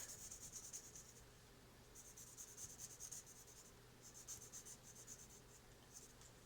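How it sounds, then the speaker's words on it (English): Graphite pencil shading across paper, a soft rapid scratchy rubbing that comes in several bursts of strokes with short pauses between, close and quiet with no talking. "I'll add a little bit of pencil graphite to that area"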